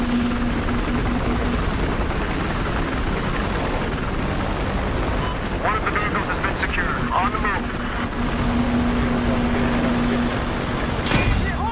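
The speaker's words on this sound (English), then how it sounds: "Hey, transport chopper right there." Transport helicopter in Battlefield Hardline, a steady rotor and engine drone running throughout the clip beneath dense game noise, with players talking over it and a sharp burst near the end.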